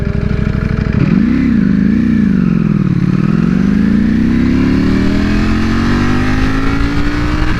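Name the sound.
Ducati Panigale V4 R motorcycle engine revving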